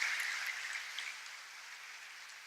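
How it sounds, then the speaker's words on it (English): A school staff audience applauds, heard as a soft, distant wash of many hands clapping that fades slightly over a couple of seconds with no voices. "a round of applause for Sean, Nancy, and John"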